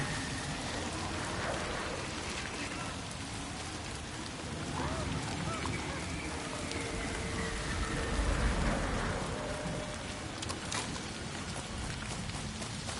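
Heavy torrential rain in the samurai video game Ghost of Yotei Legends, a steady dense hiss with low rumbling swells like distant thunder, continuous and fairly loud throughout with no talking.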